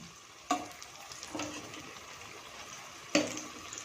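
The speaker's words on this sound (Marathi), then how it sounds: "आपले हे जे भजी आहेत यांना आलटून पलटून आपण दोन्ही साईडने छान फ्राय करून घेणार आहोत" Ridge gourd pakoda frying in hot oil, a steady soft sizzle with two sharp clinks and scraping as the fritters are turned, close by with no talk.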